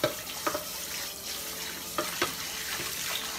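Running kitchen tap water while dishes are washed in a sink, with a steady splashing wash broken by a few faint clinks and knocks of dishware, close and moderately quiet with no talking.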